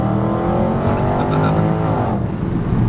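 Carbon-bodied Range Rover SVR accelerating hard in sport mode, loud close engine roar with rising revs and an upshift partway through, heard from inside the cabin with no talking.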